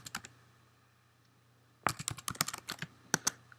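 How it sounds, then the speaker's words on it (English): Computer keyboard typing at a desk, a short tap at the start, then a quiet pause before a quick burst of crisp, close key clicks in an uneven rhythm. "it enters down to a new line for us, so we can start typing"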